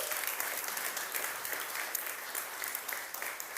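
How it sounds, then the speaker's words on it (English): A church congregation applauds together, a dense, even wash of clapping that holds steady from start to finish at moderate distance, with no voices. "Can we give him a round of applause"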